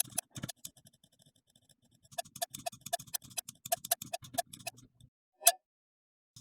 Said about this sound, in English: How about I play around with this cowbell sound, maybe make it a bit shorter.